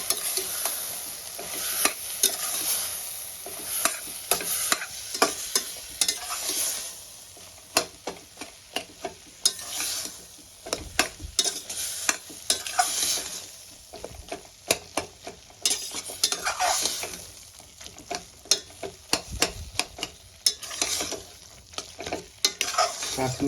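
Spice mix and chopped tomatoes stir-fried in a pan for South Indian-style tomato rice: a continuous close sizzle with constant rhythmic scraping and clinking of the spatula throughout, no voices.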